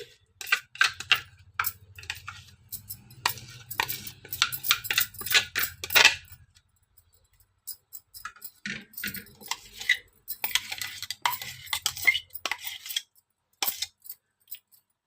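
A spoon scraping and clinking as onion and chili chutney is transferred into a bowl, with quick bursts of metallic taps and scrapes, a pause, then more clattering strokes close by.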